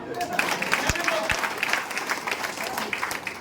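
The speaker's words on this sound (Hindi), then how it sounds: "शाबाश मेरे लाल, ताली बजा दो" Audience clapping in a motivational talk session rings out as a steady patter of many hands across the whole stretch, with faint background voices mixed underneath.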